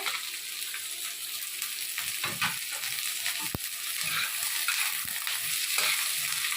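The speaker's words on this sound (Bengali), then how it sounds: "পেঁয়াজটা একটুখানি ভাজা ভাজা হবে" Onion sizzles steadily in hot oil, a constant crackling hiss with occasional scrapes of stirring.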